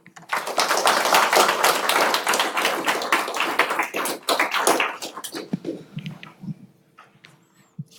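Audience at a Kaggle meetup on humpback whale identification applauds, a dense sustained burst of clapping that stays loud for several seconds, then thins out into a few scattered claps as it fades.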